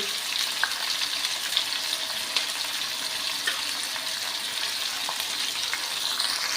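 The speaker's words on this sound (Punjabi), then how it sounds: "ਆਪਾਂ ਜੀ ਪਿਆਜ਼ਾਂ ਨੂੰ ਲਾਈਟ ਬਣਾਉਣ ਦੀ ਹੁਣ ਤੱਕ ਪਕਾ ਲਾਂਗੇ" Long-sliced onions fry in a pan for a ridge gourd (ram tori) sabzi, giving a steady, close sizzle with faint crackles and occasional stirring scrapes throughout, no voices.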